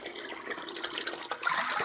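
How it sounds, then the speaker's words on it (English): Water rushes and splashes steadily as an old vinegar bath used to clean a Civil War era lock is flushed out, a continuous close, moderately loud pour that swells slightly near the end, with no talking. "I'm going to flush that with water and then put in a clean vinegar"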